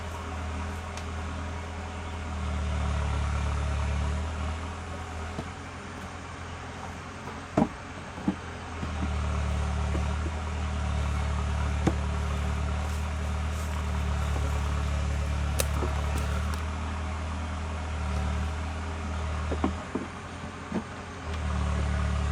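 Engine of a farmer's machine cutting storm-felled logs, a low steady droning rumble in the distance, rising and falling slightly, with scattered small clicks and knocks nearby.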